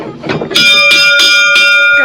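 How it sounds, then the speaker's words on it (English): A loud bell is rung by hand, striking several times in quick succession with bright, sustained metallic ringing that carries between the strokes, close and dominant. "I'm gonna ring the bell."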